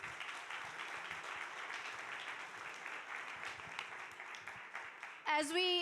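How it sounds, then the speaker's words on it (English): Steady applause from a gala audience fills the room, clapping continuously at moderate volume before a voice briefly cuts in at the end. "Can we please have another round of applause?"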